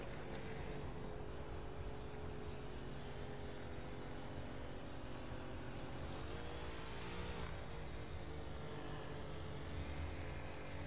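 Car engines droning in the racing game The Crew 2, a steady, dense hum held for the whole stretch at a quiet level, with a slight pitch shift partway through and no talk.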